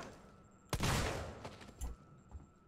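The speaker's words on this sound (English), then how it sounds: "Let's go freaking shoot the guy." A single loud gunshot in Alien Isolation, fired at a human enemy, bursting out close and decaying over about a second, followed by a couple of fainter thumps.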